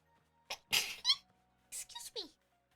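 A short sneeze in a Pokémon Legends: Arceus game scene, heard among brief spoken or vocal bursts and small squeaky character sounds at low volume.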